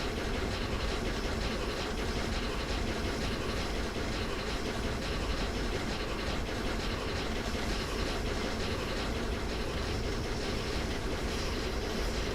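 The Flying Scotsman steam locomotive runs in a Train Sim game, a dense continuous rumble and hiss of wheels and steam filling the whole stretch at steady loudness, with no talking.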